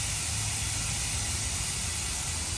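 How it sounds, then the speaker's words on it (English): An air compressor fills a McLaren car tyre with air, giving a steady, close, unbroken hiss that does not change for the whole stretch. "that's the compressor, you will hear it"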